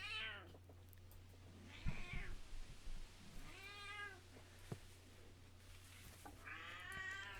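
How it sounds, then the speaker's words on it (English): A cat meows several times, about four drawn-out calls spaced a couple of seconds apart, close and clear over a low steady electrical hum. "He's meowing."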